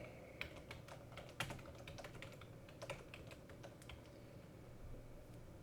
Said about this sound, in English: Then let's type a test sentence.